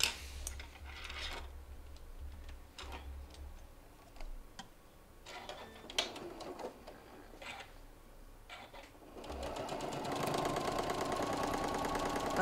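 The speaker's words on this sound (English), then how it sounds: "now we'll take it out and stitch up the other side" A sewing machine stitches a clutch wallet in bursts of rapid mechanical ticking, broken by short pauses and handling noise, then a denser, louder run of stitching near the end.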